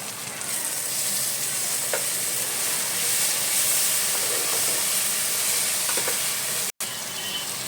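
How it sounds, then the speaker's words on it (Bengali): Onions fry in oil with ginger-garlic paste while being stirred in a pan, a loud steady sizzle and hiss close up with occasional scraping stirs, no talking. "পেঁয়াজটা দিয়ে নাড়বো"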